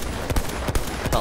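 Semi-automatic DMR rifle firing in the World War I shooter Battlefield 1, several sharp shots in quick irregular succession over busy battle noise.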